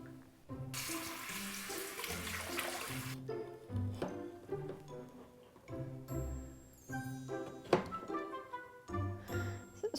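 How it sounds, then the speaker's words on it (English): Water sloshes and splashes in a filled bowl or sink while an onion is cut underwater. Bursts of rushing water rise over steady background music, strongest early on, then come back as shorter splashes. "I was trying to cut an onion that's like floating away."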